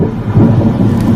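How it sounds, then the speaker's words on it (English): Thunder from a lightning strike booms in one loud, deep, sustained rumble, close and heavy, with no voices. "It's lightning barrages."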